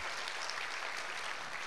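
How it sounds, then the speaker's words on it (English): Steady, dense clapping from an audience at a school spring concert, even in level throughout with no voices. "We'll clap for each one of these seniors."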